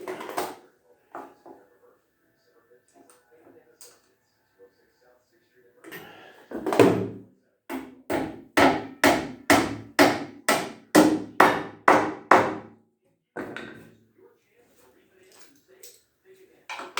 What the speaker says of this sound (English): Now we pound in the anchor and tighten it up.